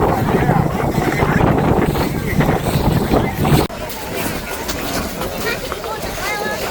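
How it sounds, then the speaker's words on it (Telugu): Strong wind gusts buffet the microphone on the Athabasca Glacier at the Columbia Icefield, a loud, steady rumbling roar that runs through the whole stretch with voices faintly mixed in. "ఇంకా గాలి ఎక్కువ ఉంది"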